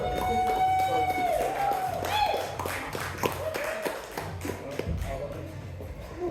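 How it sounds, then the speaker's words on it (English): Comedy club audience at The Manor in Baltimore clapping and applauding for a comedian, a dense wash of hand claps with a voice talking over it throughout. "Please give it a round of applause. Start clapping, start clapping"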